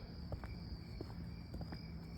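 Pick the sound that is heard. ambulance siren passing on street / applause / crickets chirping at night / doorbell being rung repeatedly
crickets chirping at night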